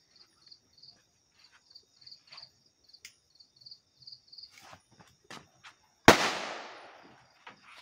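A single loud firecracker bang goes off near the end and rings out during Tihar, after steady, rhythmic cricket chirping fills the quiet night.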